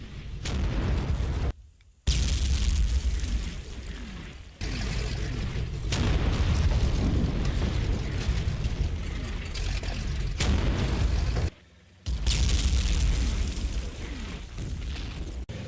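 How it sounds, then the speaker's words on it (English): Heavy Sexton II artillery fire pounding buildings at a road junction in the Combat Mission Fortress Italy wargame, heard as a continuous loud barrage of deep booms and crashing explosions, broken by two brief near-silent gaps. "the Sexton II is putting heavy fire onto the buildings on the junction objective"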